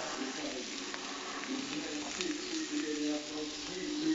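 Ostrich fillet and cherry tomatoes warm in a pan, giving off a faint, steady sizzle with a few soft crackles, quiet and close throughout.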